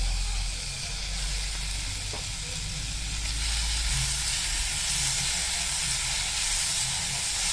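Onion and tomato fry in a hot pan, a steady, close, dense sizzle that holds at an even level throughout with faint stirring scrapes and no talk.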